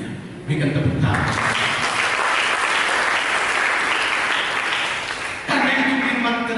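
A church congregation breaks into loud, sustained applause during a sermon, clapping steadily for about five seconds. A voice speaks just before and resumes right after.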